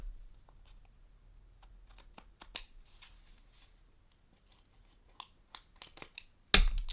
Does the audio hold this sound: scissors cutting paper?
yes